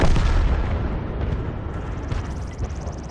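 Heavy, rumbling cannon fire and explosions fill the clip in a tank battle video game, aimed at a Valentine tank. The booms are loud and continuous, with low-end roar throughout.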